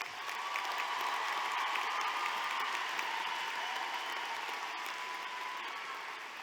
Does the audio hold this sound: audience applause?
yes